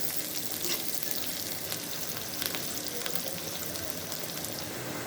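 Dried chilies and spices fry in hot oil for a dal tempering, giving a steady, even sizzle with faint crackles throughout and no talking.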